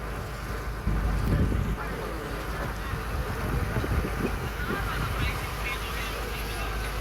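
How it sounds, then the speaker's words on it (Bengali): A motor launch cruising the waterways of the Sundarbans near the Bangladesh border, heard as a steady low engine drone from a distance, mixed with wind buffeting the microphone and a faint open-water wash throughout. "দূরে একটা লঞ্চ কিন্তু গোসাবা থেকে ফিরছে"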